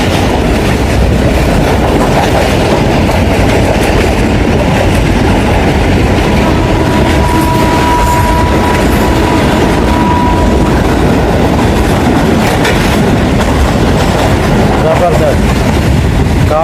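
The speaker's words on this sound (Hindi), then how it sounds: "ट्रेन गुजर ही जाएगी, क्योंकि दोबारा से स्पीड पकड़नी शुरू हो गई है।" Pakistan Railways passenger train on the Lahore to Peshawar line in rain, a loud continuous rumble with wheel clatter on the rails as it gathers speed, heard from on board with voices faintly under the din.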